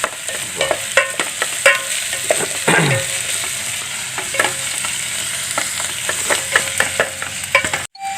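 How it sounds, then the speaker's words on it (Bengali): Onions fry loudly in a pan, a dense close sizzle with frequent sharp spatula scrapes and knocks as they are stirred; no one speaks over it. "পেঁয়াজগুলো বেশ লাল লাল করে ভাজা হবে"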